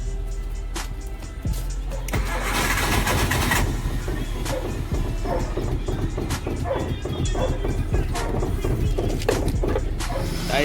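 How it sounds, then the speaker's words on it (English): A car that has sat idle for months starts up and settles into a steady low engine rumble, loud and close outdoors, with scattered clicks and knocks over the running motor. "the car started right up"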